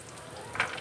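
Large pieces of onion fry in a pan for tomato chutney, a soft steady sizzle with one brief louder crackle near the end, faint and without talk.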